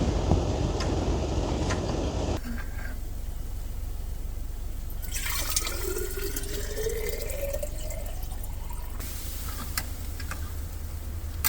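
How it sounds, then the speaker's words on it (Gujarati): Hot water is poured into a bottle that already holds cold water, on a snowy outing: a thin trickling stream whose tone rises as the bottle fills, with faint ticks and drips around it. "આમાં હજી બરફ નાખીને ગરમ પાણી આમાં ભરી લો"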